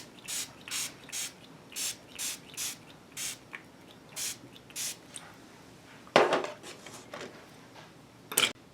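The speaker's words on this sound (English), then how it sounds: "I'm going to spritz my pans" Repeated short bursts of a spray bottle spritzing watercolor paint pans, about a dozen quick hissy puffs in steady rhythm, close by, followed by a couple of louder clatters.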